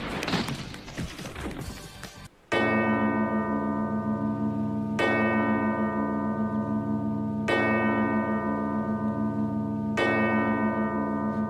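A large bell tolls in a One Piece anime episode, struck four times at slow, even intervals with long ringing overtones, loud and alone after a brief burst of noisy sound at the start.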